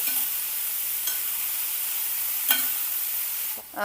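Ridge gourd fries in a pan with a soft, steady sizzle, broken by a few brief scraping clicks as it is stirred, fairly quiet and close, with no talking.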